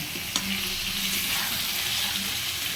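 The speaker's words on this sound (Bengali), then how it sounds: "তো এই তো এখন আমি আলুগুলো দিয়ে দিব, আর একটু ভালো করে এখন কষিয়ে নিব।" New potatoes fry in hot oil for aloo dum while being stirred: a steady close sizzle with scraping stirs and one sharp clank near the start.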